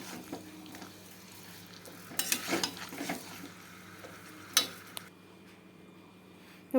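Potatoes go into a pan of Bengali-style chicken curry being fried down, with scattered stirring scrapes and sizzling bursts, a louder clatter near the middle, then quieter frying.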